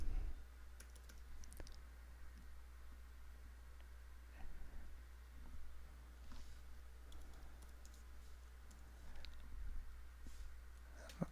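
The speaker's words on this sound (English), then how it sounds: "typing this right" Typing on a computer keyboard during a query-language tutorial, steady quiet key clicks in irregular bursts over a low constant hum, with no talking.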